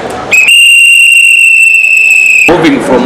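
A whistle blown by taxi operators in a Kampala protest campaign against city revenue collectors gives one loud, steady shrill blast of about two seconds, with street noise and voices before and after.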